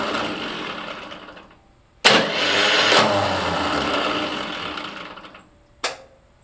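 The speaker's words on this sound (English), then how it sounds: "It did engage and start turning the engine over" A vintage tractor's starter cranks and turns the engine over in a loud, grinding burst lasting a few seconds, followed by a brief second crank, with a faint whirring before it and no voices.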